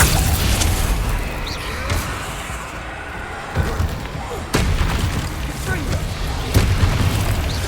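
Bombarda explosion spell cast in Hogwarts Legacy, heavy booming blasts landing amid continuous rumbling game noise, with a few sharp bursts standing out over the dense background.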